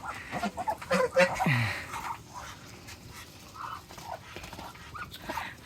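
Geese give a few loud honks early on, nearby and distinct, then quieter scattered calls over soft outdoor background noise, with no talking.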